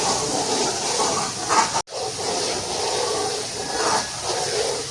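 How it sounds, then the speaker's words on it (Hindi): Tinda (apple gourd) fries with chicken in a pan, a steady loud sizzling hiss that cuts out sharply for a moment and then resumes, with no talking over it. "अब इसमें डालेंगे हम ये टिंडे, इसको भी तकरीबन 1 मिनट भून लेंगे"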